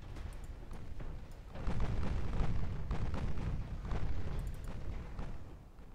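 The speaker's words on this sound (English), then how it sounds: "Cesarevich has been torpedoed again." Torpedo explosions in the naval warfare game Ultimate Admiral: Dreadnoughts rumble as a string of deep, muffled booms that swell and roll into one another over a continuous low roar, with no talking.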